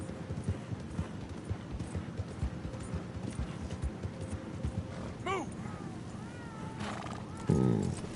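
Steady clip-clop of horse hooves plodding along in the video game Red Dead Redemption 2, with a horse whinnying partway through over a low background rumble.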